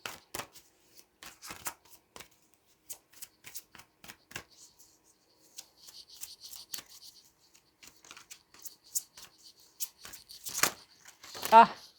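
A deck of cards shuffled by hand in quiet bursts of soft riffling and slapping, close and faint, with a person speaking quietly between the shuffles.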